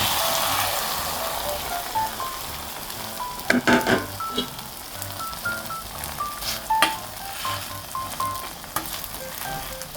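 Potato omelette frying in a pan, a steady close sizzle with scattered crackles and a few clinks of a utensil, no voices.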